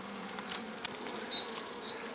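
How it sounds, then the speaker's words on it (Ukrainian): Honeybees buzzing close around an open hive frame holding brood: a dense, continuous drone with individual bees flying past, moderately quiet and with no voices. "Зараз я Трошки відганю бджіл."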